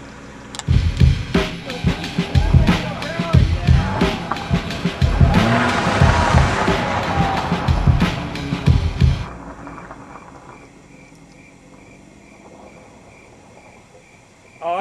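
A race car launching at the start with wheelspin. A loud engine roar and squealing tyres last about nine seconds, then fade to a faint distant hum.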